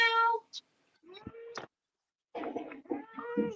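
A pet cat meows several times, close and fairly loud, in short tonal calls separated by silent gaps.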